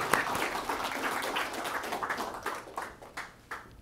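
Audience applause welcomes FTC Commissioner Noah Joshua Phillips to a college campus lecture, a steady wash of many hands clapping that slowly thins and fades toward the end.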